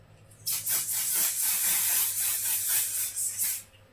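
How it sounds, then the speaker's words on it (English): A fine mist sprayer hisses in a continuous close burst lasting a few seconds, loud and airy before cutting off. "Now, actually, I'm going to spray my face."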